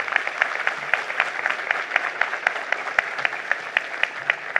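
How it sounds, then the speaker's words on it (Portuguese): At a general assembly meeting, the members applaud to elect a new board by acclamation. Rhythmic, fairly uniform clapping from a group keeps up a steady beat at moderate loudness throughout. "Nós podemos, então, elegê-los por aclamação, conforme o artigo 31 do Regimento Eleitoral do Cicobi Cred Inter, com uma salva de palmas"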